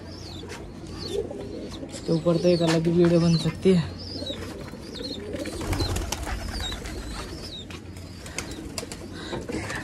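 Pigeons coo in low, repeated bursts while being shut into their coop, with a strong run of cooing near the start and quieter calls later, mixed with someone talking, chirps and rustling.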